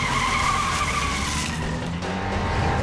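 A vehicle pulls away with its tires skidding and squealing, a loud sustained screech with engine roar that sweeps down in pitch over a few seconds, close by with no talking.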